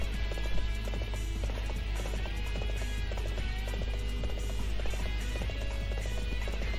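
Horse galloping in the video game Warriors Orochi 3: Ultimate Definitive Edition, a steady rhythmic clip-clop of hooves running continuously over a dense layer of game music and battle sound.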